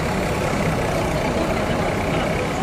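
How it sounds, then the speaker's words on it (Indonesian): A bus engine idles steadily before departure, a low continuous rumble that stays loud and close throughout. "Ya siap diberangkatan bis yang kedua"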